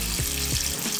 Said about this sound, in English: Now I'm gonna run the hot water here